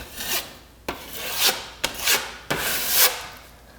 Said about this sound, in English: Just give that a quick scrape.